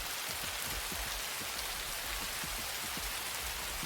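Steady rainfall in the video game Prior Extinction, a dense even hiss of rain with scattered soft drop patters underneath, continuous and unbroken with no talk.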